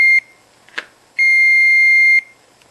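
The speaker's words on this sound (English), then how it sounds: "the load I'm driving is a beeper instead of a relay" Electronic beeper driven by an Arduino through a two-transistor circuit sounds two steady tones: a short beep, then a longer one lasting about a second, clear and close, with a faint click between them.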